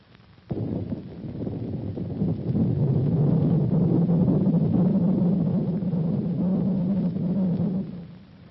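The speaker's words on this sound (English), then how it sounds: "A running man sounds like this." Return signal from an X-band Doppler radar tracking a running man, heard as a continuous low rumbling drone with a wavering pulsing texture that starts abruptly and fades out after several seconds.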